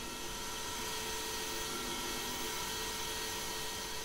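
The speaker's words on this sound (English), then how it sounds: "Now we're using just a standard stub drill." A small CNC lathe drills into brass with a standard stub drill, giving a steady, dense whine of spindle and cutting noise that holds constant throughout, close and fairly loud with no voices.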